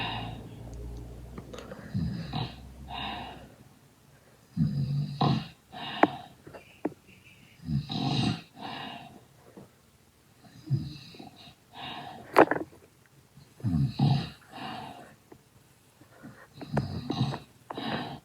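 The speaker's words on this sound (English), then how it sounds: "Well, it's snoring time." Snoring sounds with sniffs and snorts come in repeated breathy bursts roughly every one to two seconds, moderately loud and close, with no clear speech.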